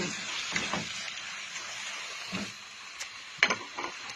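Chili and garlic stir-fried in a hot pan for Thai holy basil stir-fry give a steady close sizzle, broken by a few sharp scrapes and clacks of a spatula against the pan.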